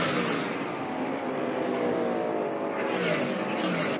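Stock cars roaring around the track at the 1973 Daytona 500, a dense, loud engine drone with sweeping pitch shifts as cars pass close by, continuous throughout.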